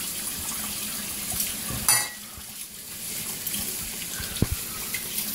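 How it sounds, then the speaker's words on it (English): Hot water runs steadily from a tap during handwashing, a continuous hissing splash with a brief louder burst near two seconds and small clinks and splashes later, with no talk. "The hot water, you get the soap on your hand and everything."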